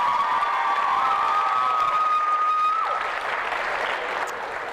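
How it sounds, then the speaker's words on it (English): A crowd at a student media awards ceremony applauds the demo reel winners, a loud, sustained wash of clapping with some cheering and a whistle-like tone at first, easing off gradually toward the end. "let's have another round of applause for our demo reel winners"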